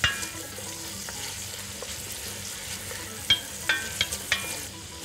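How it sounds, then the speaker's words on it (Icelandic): Rice being stirred in a pot on a stove, a soft steady sizzle and scraping with a few sharp spoon knocks against the pot near the end. "Maður þarf að vera hérna allan tíman og hræra í pottinum."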